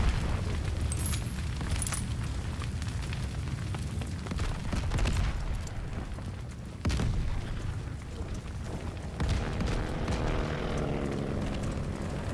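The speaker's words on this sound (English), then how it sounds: "That's a plane!" A plane flying overhead in the Call of Duty Vanguard video game, a loud, sustained roaring engine drone mixed with booming battle noise and sharp bursts.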